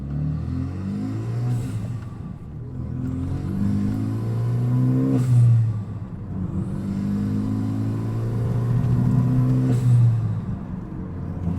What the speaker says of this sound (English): The car sounds incredible with this blow-off valve.